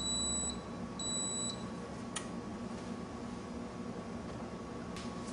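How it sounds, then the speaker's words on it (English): A brewing system sounds a momentary alarm as its mash step ends: two short, thin electronic beeps in quick succession over a steady background hum and hiss of running equipment, with no voices. "A momentary alarm will sound and the MASH will begin warm-up to the step 2 temperature"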